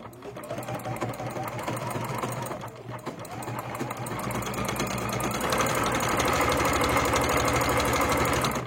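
A sewing machine stitches a hem on thin scarf fabric, running as a fast, even mechanical whir and clatter close by, with a brief pause before it picks up again slightly louder.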